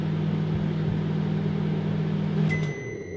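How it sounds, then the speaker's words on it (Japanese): A microwave oven in a horror video game runs with a steady low electrical hum, then gives a couple of short, high beeps near the end as the hum cuts off. "電子レンジが動いてる音だね。"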